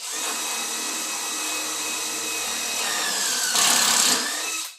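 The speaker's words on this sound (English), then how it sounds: "you get the drill going" A power drill cutting a pocket hole whines steadily at close range, its pitch rising and intensifying briefly near the end before easing off.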